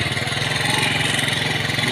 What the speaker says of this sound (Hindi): अभी देख मोटरसाइकिल पर जा रहा हूँ